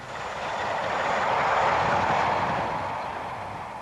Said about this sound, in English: This Class 31 has worked from Mablethorpe and is bound for London.